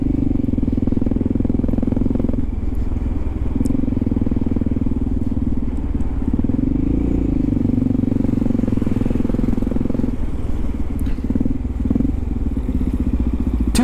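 A motorcycle engine drones loud and steady while riding, its low rumble holding a constant pitch with slight shifts as speed changes, alone without talk.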